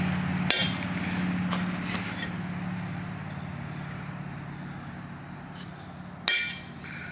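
Two sharp hammer strikes on a punch marking hole positions in metal at an anvil, the first near the start and the second near the end, separated by a steady high whine and low background hum.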